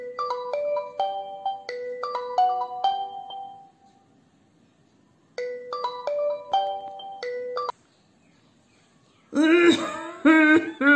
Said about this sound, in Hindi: तो आर्यन के पापा ने आर्यन के दादू के घर फोन लगाया।